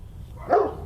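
A dog at a reputedly haunted castle gives a single short bark, fairly close and moderately loud, followed by a brief sharp noise at the end.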